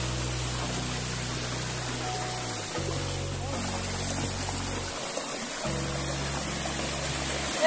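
Water at the Nandinia waterfall in Hindol, Dhenkanal, rushes with a steady, dense roar throughout, loud and continuous, with a low rumbling hum underneath.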